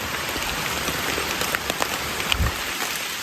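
Light rain patters steadily on leaves and surfaces in a forest, a soft continuous hiss with occasional louder drops.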